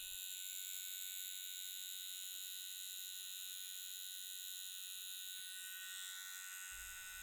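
Steady electric buzz of a Cheyenne Solnova Unlimited 4.0 tattoo machine running at 8.8 volts, a continuous whine held at an even level throughout, with a slight shift in tone near the end.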